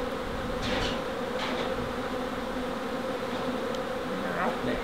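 Honeybees buzz around a hive box in the bush, a dense continuous drone with individual bees passing close now and then, steady and fairly loud throughout.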